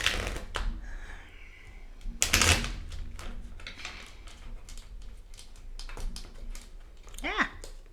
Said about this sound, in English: so I'm going to put that at the bottom and reshuffle.